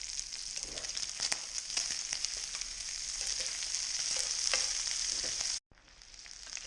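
Onion frying in a skillet gives a loud, continuous close-up sizzle with crackling pops throughout, cutting out abruptly near the end before the sizzle resumes more quietly.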